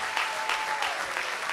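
A church congregation applauding in praise, steady dense clapping from many hands at close range, with a sustained sung or spoken voice tone running under it.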